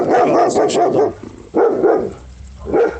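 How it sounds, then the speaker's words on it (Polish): A dog barks in three quick bursts, sharp and fairly close, with brief pauses between them. "Przepraszam, to mój pies."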